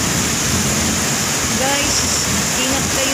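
Heavy rain pours steadily at a school during a storm with thunder, a dense continuous wash that fills the background while a voice speaks over it.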